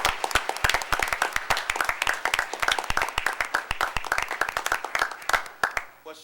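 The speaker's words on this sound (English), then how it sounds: "Let's now give them all another round of applause." Applause for honourees at a city council meeting: a round of clapping from a seated audience, many hands at once at first, then thinning to scattered claps before fading out.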